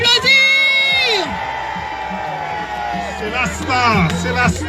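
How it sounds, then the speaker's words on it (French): A crowd at an evening gathering cheers loudly with long whoops and shouted yells rising and falling over a background of crowd noise. "Est-ce qu'on peut l'applaudir?"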